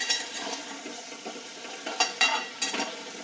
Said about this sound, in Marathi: शेंग चांगली अशी मसाल्यात परतली पाहिजे बरं का.